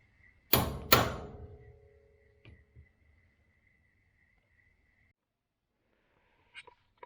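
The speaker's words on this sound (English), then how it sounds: "You just sit it there and give it a whack." Spring-loaded hole punch struck to cut holes in leather or gasket material, two sharp loud whacks close together, followed by brief ringing, a few faint knocks, then near silence.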